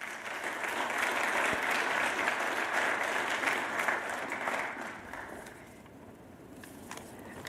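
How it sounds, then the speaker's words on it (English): A symposium audience applauds for an award recipient, a broad steady wash of clapping that swells, holds for several seconds, then thins and fades to a few scattered claps. "Can we give her a round of applause?"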